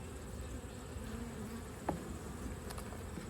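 Honey bees buzz at their hive during a fall inspection, a faint, steady droning hum with one brief click partway through.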